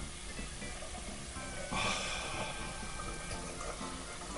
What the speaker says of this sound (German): Wir haben einen Topf, da machen wir Wasser rein.